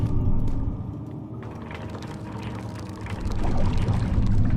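Water pours and trickles steadily inside a dark underground level of Amnesia: The Dark Descent, a continuous rushing wash over low rumble that swells louder toward the end, with no speech.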